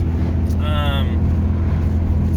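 Engine of a 2005 Kawasaki SXR 800 stand-up jet ski, a steady low droning rumble held throughout, with a brief higher whine rising over it partway through.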